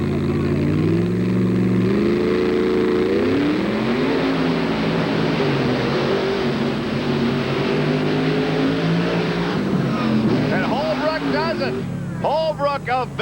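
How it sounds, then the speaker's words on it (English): Roaring monster truck engines race at a 1990 TNT Monster Trucks show in Bowling Green, Ohio, the Chevrolet Equalizer against the Carolina Crusher. The revving is loud and continuous, with engine pitch rising and falling under an announcer's commentary and a crowd. "Now, this is going to be probably one of the closest races we're going to see here yet tonight, Gary."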